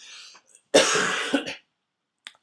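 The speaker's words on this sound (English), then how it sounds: "I'm going to cough now" A single close, harsh cough with a rough throaty burst, preceded and followed by brief faint breathy sounds, otherwise quiet.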